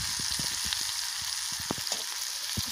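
Masala and fish curry fry in a pan with a steady, dense sizzle and scattered crackles and pops, close and fairly loud, with no voices over it.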